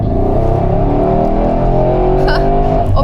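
An 860-horsepower Mercedes-AMG car engine revs loudly and close in Bucharest city traffic, a steady strong roar held for a few seconds with a brief rise near the end.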